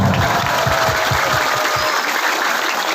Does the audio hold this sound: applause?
yes